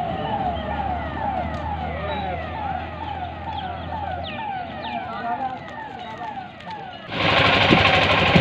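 A fire brigade from Rewa responds to a large blaze spreading from Mukundpur to a village, its siren wailing in repeated sweeping rises and falls at moderate distance. Voices mix in, and a loud burst of noise comes at the end.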